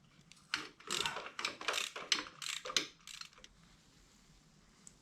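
Wrench working a very rusty nut on a Barnett clutch cable, set at an awkward angle: a run of close, grinding ratchety bursts for about three seconds, then quiet.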